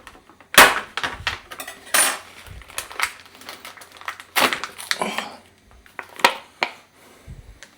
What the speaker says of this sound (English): I felt I might have to hit my frying pan with a hammer,